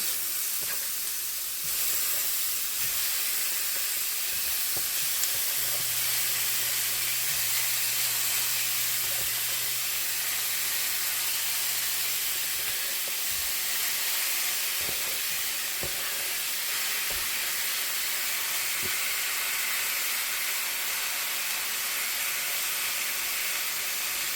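Angus beef for Philly cheesesteaks fries in a Lodge cast iron pan, giving a loud, steady, close sizzle with dense hiss that runs on without a break.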